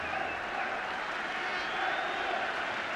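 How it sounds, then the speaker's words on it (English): Generous crowd applause at a Watford football match as long-serving Ross Jenkins comes on as a substitute, a steady wash of clapping from the stands continuing throughout under a commentator's voice. "hence the generous applause as he came on"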